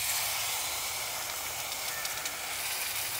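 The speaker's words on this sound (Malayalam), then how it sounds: "ഈ ശർക്കര പാനികൾ നമുക്ക് ഇതിനകത്തേക്ക് ഒഴിച്ചു കൊടുക്കാം" Jaggery syrup poured into a hot pan of gooseberries, a steady loud hiss and sizzle that holds evenly throughout with no talking.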